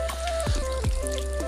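Water drips from a washed mushroom-filled mesh bag hanging from a tree: a few distinct drops spaced apart, close and clear, with no talking.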